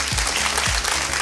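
Audience applause at a live magic and ventriloquism show, a dense, steady wash of many hands clapping throughout, fairly loud and filling the room, with a few low thumps underneath.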